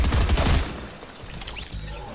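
A drum shotgun in the video game Fortnite fires a rapid volley of booming shots, loud and clustered at the start, then trailing off into fainter in-game rumble and scattered effects.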